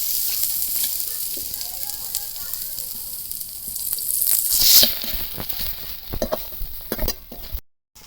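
Spiced Bengali river fish fries in oil with a loud, close sizzle and spitting crackles, rising in intensity midway, with occasional clinks and no clear speech.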